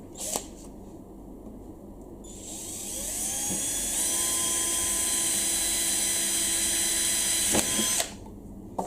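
An electric drill with a 2.5 mm bit spins up with a rising whine, runs steadily boring a small pilot hole for several seconds, then stops.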